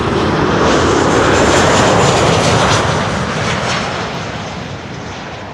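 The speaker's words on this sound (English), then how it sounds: "Transavia will be landing here first." A Transavia airliner landing at Schiphol on the Kaagbaan runway, with a loud, broad roar of jet engines that swells and then gradually fades as the aircraft passes, heard alone without talk.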